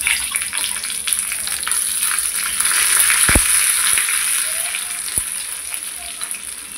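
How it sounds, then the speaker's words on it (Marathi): Mustard seeds, dried red chillies and curry leaves sizzle in hot oil for a tempering poured over chutney, a steady close crackling hiss with a few sharp pops midway and no talking. "इथे छान अशी मी फोडणी देते चटणीला। तर मोहरी टाकली, मिरच्या टाकल्या सुक्या आणि कढीपत्ता।"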